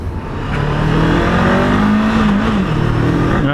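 A rally-raid-built Honda CB500X motorcycle accelerates up a freeway on-ramp, its engine note climbing steadily in pitch and staying loud and close throughout, with no talking.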